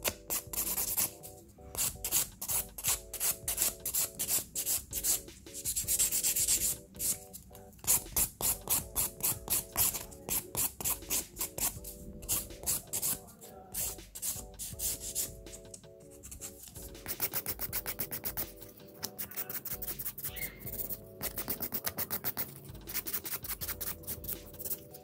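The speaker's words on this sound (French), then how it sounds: "J'attrape ma lime à grains 100-180 et je viens matifier la surface de mon ongle." A 100/180 grit nail file rasping across a fingernail surface in quick, steady back-and-forth strokes, close and continuous with brief pauses.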